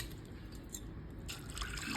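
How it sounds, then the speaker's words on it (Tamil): Water is poured into a pressure cooker holding soaked red cowpeas. Faint liquid splashing and dripping grows a bit fuller and brighter halfway through, heard close and without any talk. "வேணுங்கிற அளவு தண்ணி விட்டு"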